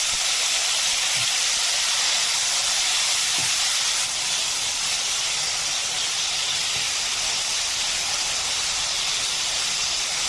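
Tomato pieces sizzle in hot oil in a pan with a steady, even hiss that carries on without a break throughout.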